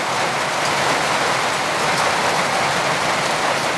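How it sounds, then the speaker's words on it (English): Heavy rain pounds a tin roof on a remote cabin, a dense, steady hiss and patter that holds loud and unbroken throughout with no voices. "And listen to that rain hitting the tin roof."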